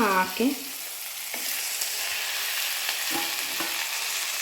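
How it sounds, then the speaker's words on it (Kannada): Onions stirred and frying in a pan while being cooked to golden brown for okra palya, a steady sizzle with a few scraping stirs near the start, close and fairly loud, no talking. "ಗೋಲ್ಡನ್ ಬ್ರೌನ್ ಆಗೋವರೆಗೂ ಈರುಳ್ಳಿ ಈ ಥರನೇ ಕಲಿಸ್ತಿರ್ಬೇಕು"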